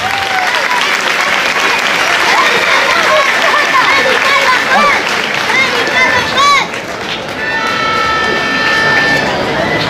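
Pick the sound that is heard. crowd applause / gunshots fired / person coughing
crowd applause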